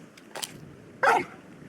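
A large dog companion in the Final Fantasy XVI video game gives a short bark, then a louder, fuller second bark, with quiet game ambience behind.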